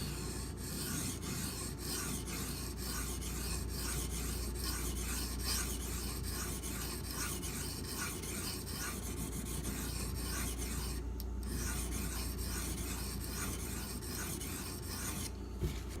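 A knife with small chips along its belly is worked across a coarse aluminum oxide whetstone, producing a continuous close gritty rasp of repeated strokes with two short pauses.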